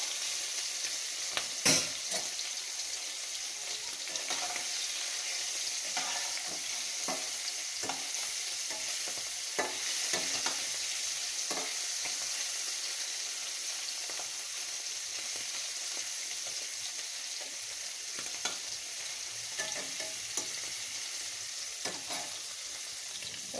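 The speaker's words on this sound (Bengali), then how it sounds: "এখন চিংড়ি মাছগুলো আমি দিয়ে দেবো, দিয়ে একটু ভেজে নেব" Prawns fry in hot oil, giving a continuous close sizzle broken by sharp clacks and scrapes of stirring, with no talking.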